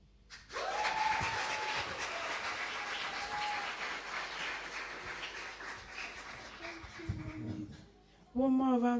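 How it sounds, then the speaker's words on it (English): Audience applause after a poetry performance at a live event in Leeds, a broad, steady wash of clapping that holds for most of the stretch, fades near the end, then gives way to a voice speaking. "One more round of applause"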